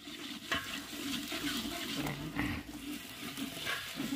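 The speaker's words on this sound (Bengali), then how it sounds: "আরেকজন নাড়া দিচ্ছে" Ginger paste stirred into a cooking pot at a village picnic, faint scraping stirs repeating over a low sizzle and soft background bustle.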